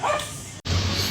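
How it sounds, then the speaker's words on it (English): Several dogs bark together in a short, close burst that stops briefly and then starts again, with no speech over them. "They're just all barking together."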